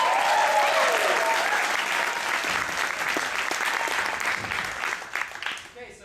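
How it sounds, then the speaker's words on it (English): An improv comedy show audience breaks into sustained applause, a dense wash of clapping that stays loud for several seconds and then begins to thin out, with voices mixed in. "Give him a round of applause."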